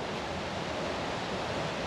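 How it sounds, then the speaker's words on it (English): Water gushing out through a gap being opened by an amphibious excavator makes a steady, loud, broadband rush that holds evenly throughout, with no talk. "it worked a treat because the water is gushing out now"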